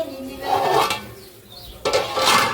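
A ladle scrapes and clinks against a metal pot of kheer being stirred, two bursts of clattering metal-on-metal separated by a quieter pause, close up.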